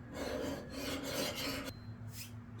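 Steady rasping strokes of a file working across an axe bit while it is reprofiled, a Council Tool Jersey pattern axe, close and continuous, with the tone shifting abruptly partway through.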